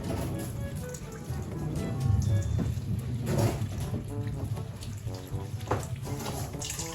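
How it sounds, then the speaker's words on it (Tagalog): A tap runs over freshly picked pechay (bok choy) being washed in a sink before cooking, a steady close stream with clattering and splashing as the leaves are handled, and no talking. "Ang una natin gagawin mga kadilag ay hugasan ko na muna itong mga lulutuin"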